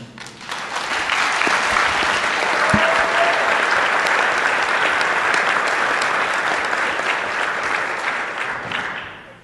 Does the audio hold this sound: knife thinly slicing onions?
no